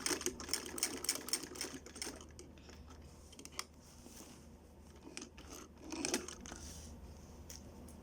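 A sewing machine stitches a zip onto a pocket, giving a close burst of rapid mechanical clatter that slows to quieter handling, then a second brief run of stitching near the end.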